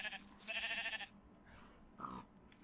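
Sheep in a video game bleats twice: a longer wavering bleat followed after a pause by a shorter one, fairly close and clear over a faint background hum.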